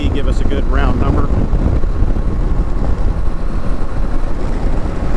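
A 2024 Kawasaki Eliminator 450 motorcycle cruises at 60 mph in sixth gear near 5,000 RPM, its buzzy engine droning steadily under heavy wind rush, with a brief voice near the start.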